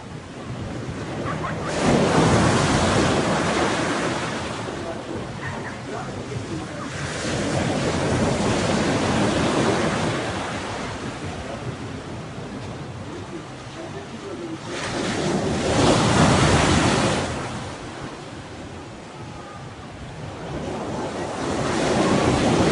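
Sea waves break on a shore in repeated loud surges that swell and fade, with heavy wind rumble on the microphone and no talk.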